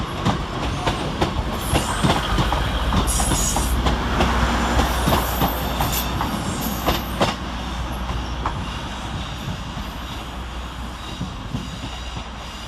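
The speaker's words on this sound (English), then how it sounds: "323234 arrives to terminate with a Northern service off of Stoke-on-Trent, while 150-111 and 156-401 depart" Northern trains, including units 323234, 150-111 and 156-401, rumble through Manchester Piccadilly station in a steady, loud roar with wheel squeals and clattering over the rails, with no talk.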